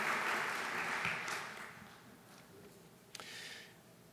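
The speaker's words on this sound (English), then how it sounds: "Give them a warm round of applause" Warm applause from a conference audience at a technology event's opening remarks, moderate and fading over the seconds, with a sharp tick near the end.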